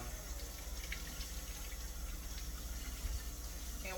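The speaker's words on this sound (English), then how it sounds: "So I got my cold water on." Cold water runs from a kitchen tap in a home cooking setting, a steady hissing splash with faint drips, moderately quiet and continuous, with no talking over it.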